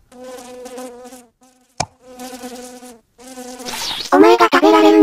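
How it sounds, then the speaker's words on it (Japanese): Dense insect buzzing from oversized flies in the horror game Mitoza, a steady harmonic drone that drops out briefly and swells louder toward the end, with a sharp knock midway and no talking. "このハエでかすぎー"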